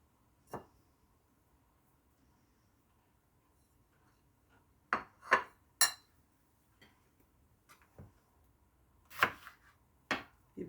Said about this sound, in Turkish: Bir tane de domates doğrayacağız içine sahip.